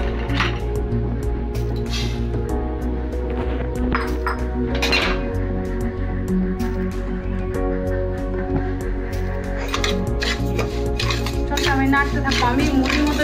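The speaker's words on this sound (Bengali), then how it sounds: "এটাকে আমি প্রথমে চালটাকে আমি প্রথমে ভেজে নেব।" Gobindobhog rice dry-roasts in a pan, stirred continuously with a metal utensil that scrapes and clinks against the pan in a steady rhythm, close up; no talking.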